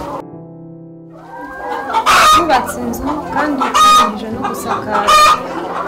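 Chickens on a cooperative farm in Nyagatare, Rwanda cluck in a busy chorus while a rooster crows loudly several times, each crow standing out close and strong above the clucking flock.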